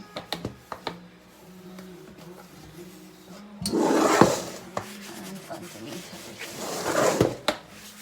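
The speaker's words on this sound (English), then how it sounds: "I literally just scrub all of the area that I haven't cleaned" Scrubbing of household surfaces during speed cleaning, two rough rubbing bursts between clicks and taps of handled objects.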